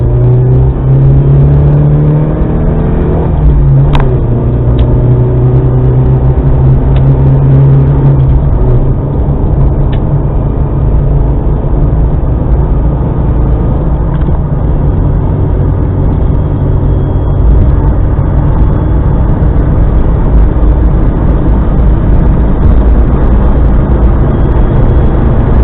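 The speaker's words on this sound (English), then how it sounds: "Okay, about to accelerate into the freeway." A car accelerating onto a freeway, heard from inside the cabin as a loud, steady engine rumble and road roar that rises in pitch early on, then holds.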